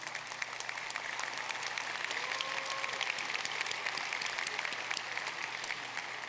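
An audience at a College of Engineering commencement applauding the faculty, steady sustained clapping from a large hall, moderately distant and even throughout.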